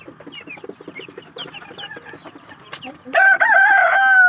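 Chickens cluck in short repeated bursts close by, then a rooster crows loudly in a long drawn-out call near the end.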